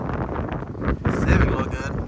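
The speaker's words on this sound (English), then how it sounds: "it is so windy out here" Strong outdoor wind buffets the microphone with rumbling gusts, loud and close, and a voice speaks briefly underneath.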